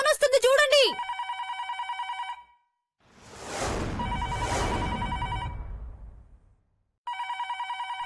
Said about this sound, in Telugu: ఫోన్ వస్తుంది చూడండి